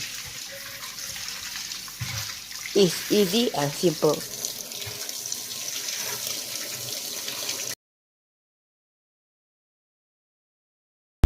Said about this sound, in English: use a sponge to clean it off and wash it with water.